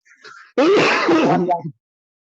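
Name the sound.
coughing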